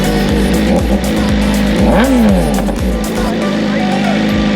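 A BMW M1000RR superbike engine starts and runs loud and close, with rising and falling revs and sharp throttle blips.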